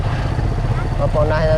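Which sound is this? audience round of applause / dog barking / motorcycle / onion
motorcycle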